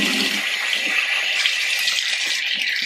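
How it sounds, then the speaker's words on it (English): Running water splashes steadily into a bathroom or kitchen sink during a rinse after scrubbing with Comet bleach cleaning powder, a continuous close hiss with small rattling drips throughout, no voices. "And time to rinse."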